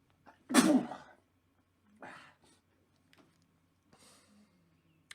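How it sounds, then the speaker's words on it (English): A single loud, sharp sneeze bursts out near the start, followed by quieter rustling and faint small noises. "You gotta love a sneeze"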